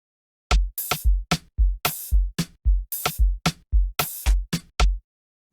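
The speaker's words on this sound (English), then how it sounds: "I have the open hat and the snare playing the opposite of each other. They are kind of like alternating." Amapiano drum pattern programmed in FL Studio, an open hi-hat and snare alternating over deep kick thumps in a steady, punchy loop, dry and close with no voice.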